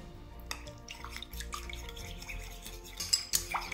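Gelatin is stirred into warm water in a kitchen, giving soft scraping and light clinks of a utensil against a bowl, followed by a few brighter metallic taps near the end, fairly close and moderately quiet, with no talking.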